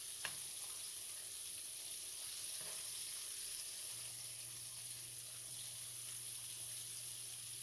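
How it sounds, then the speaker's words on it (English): Liver and onions fry in a pan with a steady, quiet sizzle that runs unbroken throughout, with a faint low hum beneath and an occasional light clink. "Let that fry up."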